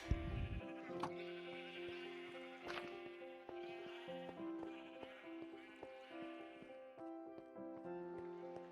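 Minecraft sheep bleat repeatedly in a blocky farm pen with llamas nearby, the short bleats rising over a steady bed of soft melodic game music throughout.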